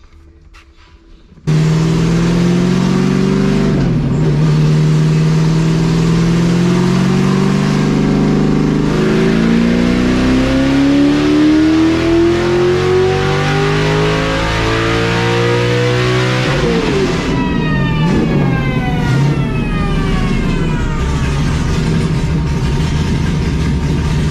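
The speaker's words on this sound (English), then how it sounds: "I'm gonna turn it 200 more RPM" A high-compression, naturally aspirated 402 cubic inch engine roars loudly and steadily on a dyno, revving up through a long pull before dropping off, with no talk over it.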